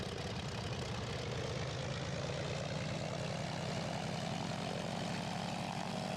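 Zlin Z-142 light aircraft propeller engine simulated in X-Plane 11, a continuous droning hum with a pulsing propeller beat, steady and close without any talking.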